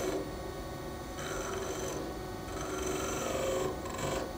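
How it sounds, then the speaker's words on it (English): A skew chisel cuts a wooden Christmas bell spinning on a lathe, giving a steady, close whirring hiss that swells slightly and shifts in tone as the cut goes on. "this is where the skew chisel can come in very nicely, because I can cut into that very fine cut"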